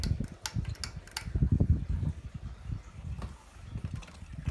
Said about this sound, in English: this fan does have a pretty cool startup sound when you turn it on. Especially when you start it on high.